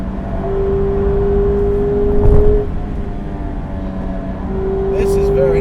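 A 2017 Mazda MX-5 Miata RF on a track holds a high steady engine drone near the limit of its gear, with a brief swell of wind and road noise partway through, while someone speaks over it.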